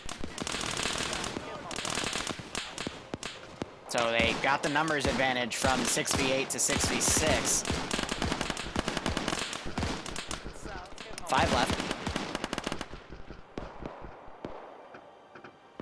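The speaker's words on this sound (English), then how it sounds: "the gunshots are going to attract these guys" Gunfire in a multiplayer shooter match: dense, rapid bursts of automatic fire and single shots, loud and close, running under continuous commentary from a caster.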